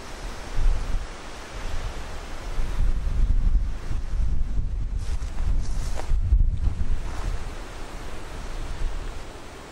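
Strong gusting wind buffeting the microphone outdoors along the route of a disused Broadway to Honeybourne railway line, a loud continuous roar that swells and eases in waves, with no voices.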